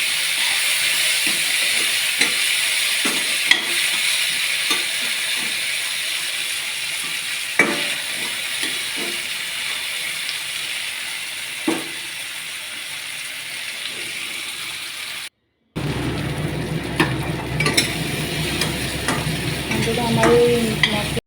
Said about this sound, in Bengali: আমার এই মশলাটা ভাজা হয়ে গেছে